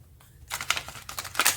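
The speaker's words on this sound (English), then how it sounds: "doesn't want to shuffle very well" Tarot cards being shuffled, brief papery riffling and crisp flicking bursts in quick irregular clusters, close and fairly quiet.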